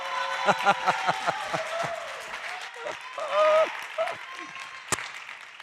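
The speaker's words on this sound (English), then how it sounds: "I think we know who we're going to give a big round of applause to" An audience at a startup pitch competition claps in a brief burst of applause near the start, while a host's voice speaks over and after it.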